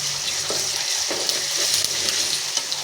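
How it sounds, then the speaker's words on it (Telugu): Ginger garlic paste fries in hot oil with a loud, continuous sizzle, and a spoon scrapes and stirs the pan now and then. No one speaks. "పచ్చివాసన పోయేంత వరకు నూనెలో ఫ్రై కావాలి."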